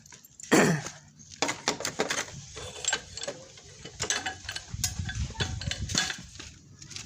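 A wrench works on the custom exhaust bolts of a Honda Supra motorcycle, producing a series of sharp metallic clicks, clanks and ratcheting taps in irregular bursts up close, with some faint background noise.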